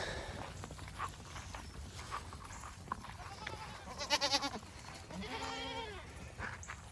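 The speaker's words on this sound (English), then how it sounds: "Come on, goats." Goats in a pasture bleat a few times at close range, short wavering calls standing out over quiet rustling and footsteps, with a voice speaking softly now and then.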